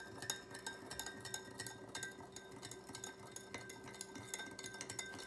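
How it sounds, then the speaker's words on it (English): A spoon stirs Tang drink mix in a glass, soft swishing with repeated light clinks against the sides, quiet and close. "Just mix it up."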